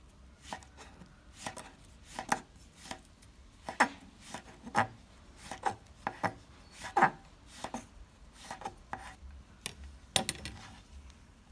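A knife chops an orange into small, even pieces on a board, giving a steady series of crisp, close knocks spaced about half a second apart with quiet pauses between them.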